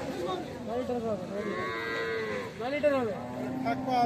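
A Holstein Friesian dairy cow moos loudly and nearby in long, drawn-out calls, one after another, with a faint murmur of people in the background.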